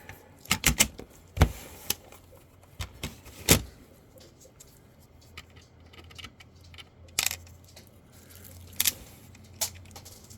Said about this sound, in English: we're going to put this tape back together